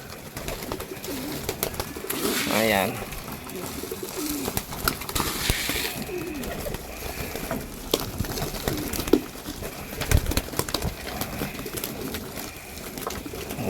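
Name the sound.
pigeons cooing at a loft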